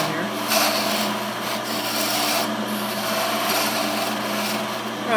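A wooden candle stand spinning on a wood lathe as a tool shapes it, a steady rubbing, rasping scrape over the motor's constant hum, close and continuous.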